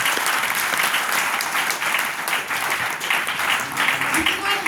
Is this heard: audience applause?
yes